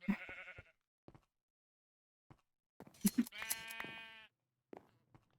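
Sheep bleating in Minecraft, a series of loud, wavering bleats in a couple of bursts separated by near silence, with a few short clicks and game sounds between them.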